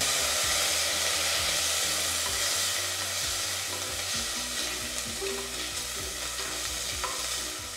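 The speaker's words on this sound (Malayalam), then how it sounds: "അതിന്റെ പച്ചമണം പോകുന്ന വരെ ഒന്ന് വഴറ്റി കൊടുക്കാം" Ginger garlic paste is sautéed with onions in a pan, making a constant frying hiss and rhythmic scraping stir strokes, fairly close with no voices.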